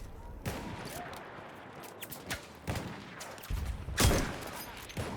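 Gunfire in the video game Battlefield 1, several sharp separate shots and bursts at irregular intervals, some close and loud, over a low murmur of game noise.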